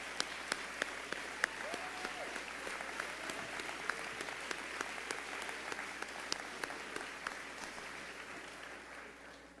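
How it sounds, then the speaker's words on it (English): A graduation audience gives a long, steady round of applause, a dense crowd of clapping hands with a few sharper claps standing out, continuing evenly throughout. "Class, give them a big round of applause."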